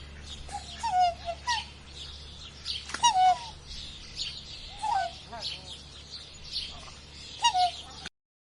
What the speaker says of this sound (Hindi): चलो सुनते हैं हंस कैसे बोलता है।